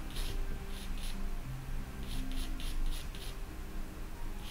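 A pencil scratches softly on watercolour paper while a highlight is drawn in on a dog's eye, faint and steady with short repeated strokes.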